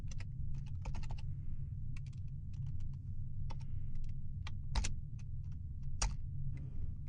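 Quick bursts of keystrokes on a computer keyboard, irregular clusters of close, crisp clicks with short pauses, no voices.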